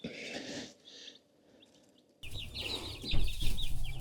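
Chickens cluck and chatter close by, with a quiet gap in the middle before a burst of busier clucking and rustling.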